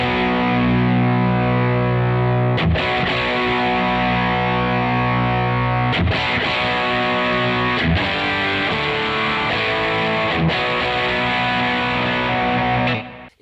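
Thick, saturated fuzz from an electric guitar through a Great Eastern FX Focus Fuzz pedal rings out loudly and continuously, with a few sharp re-strums breaking the sustained distorted wall of sound.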